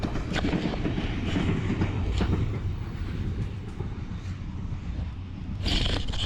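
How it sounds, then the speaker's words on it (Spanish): A train passing on a railway seen from a bicycle trip, a loud continuous rumble with rhythmic clatter of wagons on the track, close by and sustained throughout, with no speech. "Mira el tren aquí."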